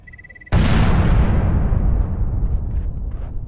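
Explosives detonate in the video game Lifeless Planet: a sudden loud blast after a high electronic tone, followed by a long roaring rumble that slowly fades.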